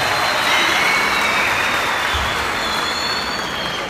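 Sustained applause from a concert audience at an outdoor festival show, dense and steady throughout without letting up.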